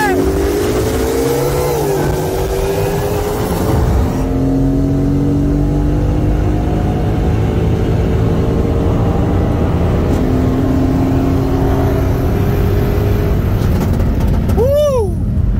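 A 2018 Mercedes C63 S AMG with bolt-ons and E30 fuel races a 2021 Shelby GT500 with an intake from a second-gear roll at 50 mph; engines rev and roar in a sustained climbing pull, heard from inside one car, ending in a whooshing pass.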